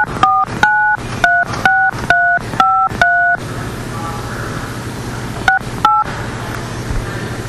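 Telephone keypad tones enter a phone number into an AT&T automated line: a quick run of about eight crisp dual-tone beeps, a pause with low background hum, then two more beeps, loud and close.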